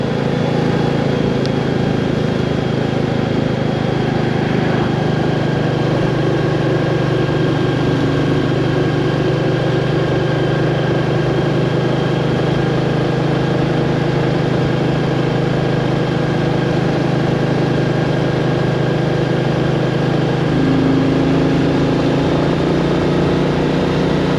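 Royal Enfield 350 Classic single-cylinder motorcycle engine running steadily while riding, a continuous low drone with wind and road noise throughout, no talk.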